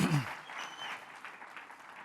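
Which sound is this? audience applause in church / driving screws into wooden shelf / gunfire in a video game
audience applause in church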